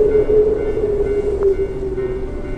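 A subway train runs by steadily inside a video game, its low rumble and faint rail hum sustained and fairly loud with no talking.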